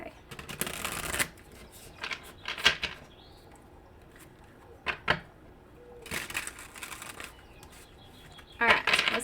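A deck of cat-themed tarot cards is riffled and shuffled in repeated crisp, papery bursts separated by short pauses, close to the listener, with quiet handling noises in between.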